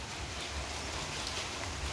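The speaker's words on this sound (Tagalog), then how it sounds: "Inabutan na ako na naman ng ulan." Steady rain falls outdoors at a washing machine faucet repair, an even broadband hiss with a low rumble underneath, continuous and without talk.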